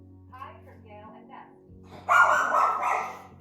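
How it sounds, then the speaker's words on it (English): A pet dog barks once in a short, fairly loud burst indoors after some quiet talking at home, the bark standing out clearly over a low background hum. "That's my dog."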